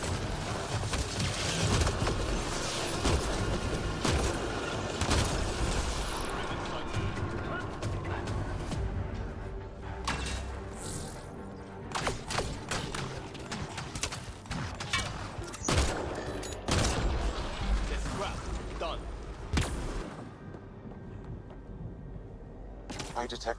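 Rapid gunfire from a firefight in Mass Effect: Andromeda, with loud sharp shots cracking in irregular bursts over rumbling background noise, and a voice talking at points amid the shooting.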